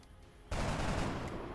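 A burst of gunfire in the video game XCOM: Enemy Unknown, starting abruptly after a quiet moment and sustaining as a loud, dense rattling blast that slowly tails off.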